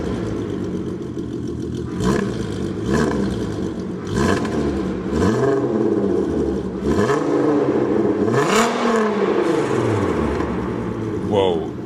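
A Volkswagen Golf GTI Roadster race car's engine revs repeatedly, rising and falling in sharp swells with mechanical clatter between bursts, loud and close, while a voice talks over it.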